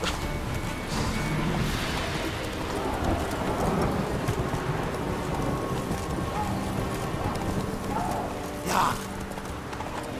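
Horse hooves from The Witcher 3 clip-clop steadily through a continuous game soundscape of wind and ambient noise, with a brief brighter accent near the end; no speech is audible over it.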